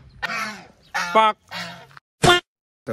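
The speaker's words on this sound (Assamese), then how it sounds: "এইফালে আমাৰ এইকেইটা হাঁহ" Several ducks quacking loudly and close by, a series of four or five harsh honking calls separated by short pauses.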